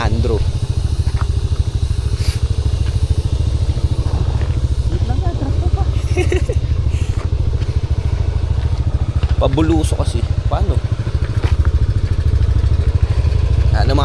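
A motorcycle engine runs steadily and loudly close by throughout, a constant low drone while people talk over it.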